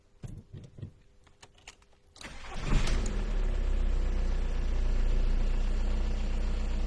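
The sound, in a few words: car engine starting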